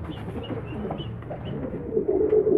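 A young pigeon squab inside a cardboard box resting on a scale gives soft, low cooing sounds, close and muffled, with faint rustling; a louder coo comes near the end.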